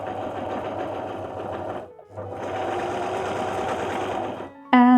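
An electric sewing machine stitches the back piece of a thrifted mini skirt, a close, fast whirring run that pauses briefly, resumes, then stops as a short bright tone sounds at the end.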